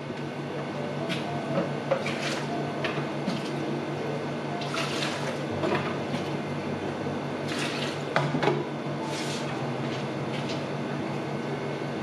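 A shovel scoops the last few millimetres of water out of an aquarium, making a series of short scraping, splashy strokes over a continuous wet background.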